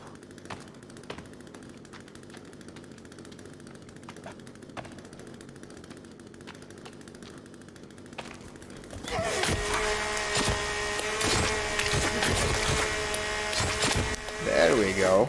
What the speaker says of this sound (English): I hear more movement, so I'm whipping out the fucking chainsaw.